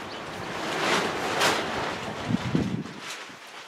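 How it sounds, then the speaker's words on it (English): Strong outdoor wind buffeting a camera microphone, a steady broadband roar with gusts swelling and easing, plus a few faint knocks, near and loud throughout with no talking. "Really windy today."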